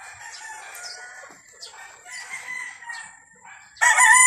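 A rooster crows nearby on a farm, a long drawn-out call, with other clucks and crows around it before a loud, raspy crow bursts in at the end.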